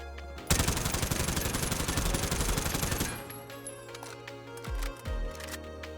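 Rapid automatic AK-74u gunfire on a Warzone training map, a loud sustained burst of closely spaced shots lasting a few seconds, then a ringing tail with faint mechanical clicks and lower thuds.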